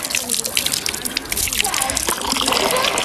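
Cold mountain stream water flowing down from a lake above, a close, continuous splashing and gurgling rush, with a person talking over it.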